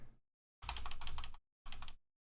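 Keystrokes clatter from a computer keyboard in two bursts of rapid typing with a pause between them, up close, with no talking.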